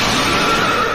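A single horse whinnies loudly and close in a brief, continuous burst, heard alone.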